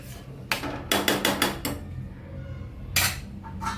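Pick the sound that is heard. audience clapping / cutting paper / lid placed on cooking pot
lid placed on cooking pot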